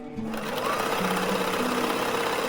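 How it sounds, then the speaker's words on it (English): Butterfly JH8190S table top sewing machine stitching, a close, steady whirring hum with fine rapid mechanical ticking throughout. "You can go ahead and just sew."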